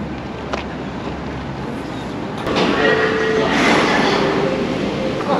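A Daegu subway train running, a steady rumble of rail noise with a louder surge of rolling and screeching midway, heard from on board and mostly without talk.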